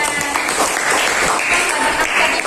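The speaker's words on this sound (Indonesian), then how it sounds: "Tepuk tangan." A classroom full of students claps loudly together, brisk steady applause that fills the whole moment.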